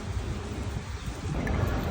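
Heavy, cold rain driven by wind in Taiwan roars steadily with broad, rumbling gusts and some microphone buffeting, loud and continuous with no talking.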